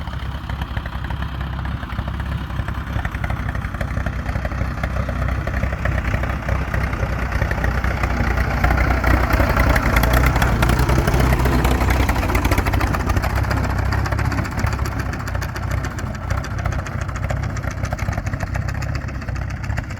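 A loud, steady tractor engine rumbles throughout while spreading lime on a bumpy field, heavy low-end drone with rattling, running continuously up close.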